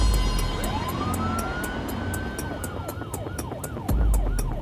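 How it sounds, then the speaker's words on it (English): A loud wailing ambulance siren sweeps up and down continuously, heard close by from inside the ambulance over rumbling engine and road noise, with a brief thud near the end. "We're coming on blue lights and sirens"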